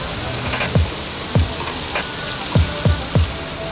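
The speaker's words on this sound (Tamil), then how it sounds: "அடுத்தது வெங்காயத்தை போட போகிறேன். வெங்காயமும் பச்சை மிளகாவும்." Close, steady sizzle of onions and green chillies frying in oil with fennel seeds and cumin, broken by several sharp scraping stirs of a spoon against the pan at an uneven pace.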